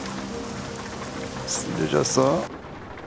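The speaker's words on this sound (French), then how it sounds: "Il y a déjà la pluie." Steady rain falls in the truck-driving game American Truck Simulator, a constant hiss of drops heard close throughout while someone speaks briefly over it.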